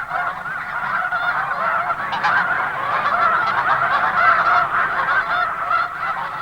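A large flock of snow geese honks continuously at the McConnell River, a dense, steady chorus of overlapping calls at close range with no voices.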